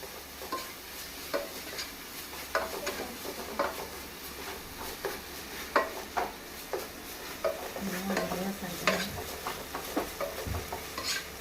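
Finely chopped onion frying in a pan until golden brown, with a low sizzle under irregular scraping and knocking of a spoon against the pan, and brief faint speech partway through.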